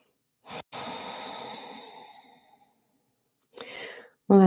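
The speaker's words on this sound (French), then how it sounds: "On va prendre quelques respirations ici." Deep breathing during a beginner vinyasa flow yoga class: a long, soft exhale that fades out over about two seconds, followed later by a shorter breath, heard alone with no talking.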